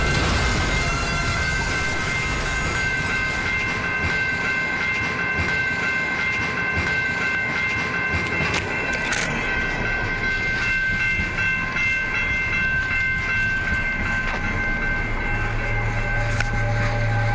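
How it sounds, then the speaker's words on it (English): A train rolls along railway tracks in a steady, loud, continuous rumble with rail clatter and a high metallic tone running throughout, with no talking. "Dodging trains for YouTube."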